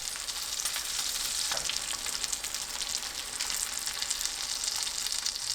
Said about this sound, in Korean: 계란 넣고 앞뒤 노릇하게 구워주세요